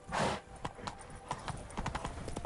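Hooves of Geralt's horse Roach clip-clopping at a gallop in The Witcher 3: Wild Hunt, a steady rhythmic beat of close hoof strikes following a brief loud burst at the start.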